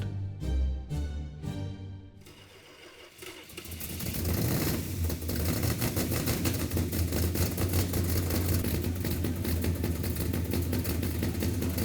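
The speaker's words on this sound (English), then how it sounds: "And fired it up on the engine run stand." A Hemi engine for a 1971 Hemi Cuda fires up on an engine run stand: a few sharp cranking bursts, then a loud, steady rumbling idle.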